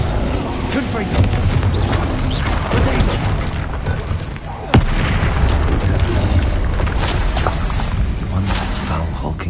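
A Confringo fire spell exploding in the video game Hogwarts Legacy, a sharp blast amid a continuous loud roar of combat effects and music, with a voice speaking.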